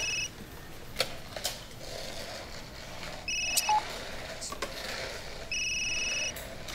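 An incoming-call phone tone beeps in three short repeated bursts with gaps between them, moderately loud over a faint room background and a few ticks.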